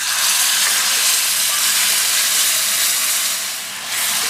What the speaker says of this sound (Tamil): மேஷ் பண்ணி வச்ச தக்காளியை சேர்த்துடலாம்.